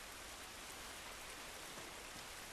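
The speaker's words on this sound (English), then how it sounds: "This rain ain't gonna do us any good." Steady rain falls outdoors in the video game The Last of Us, a dense, even hiss of drops on surfaces that stays constant and moderately quiet throughout, with no voices.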